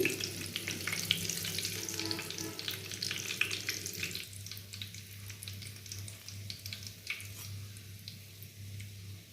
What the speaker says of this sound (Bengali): এবার আমি তেল ঝরিয়ে কাবাবগুলো তুলে নিচ্ছি